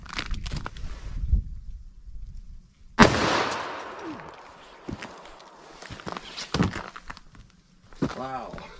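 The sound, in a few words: 357 Magnum hard cast gunshots into ballistics gel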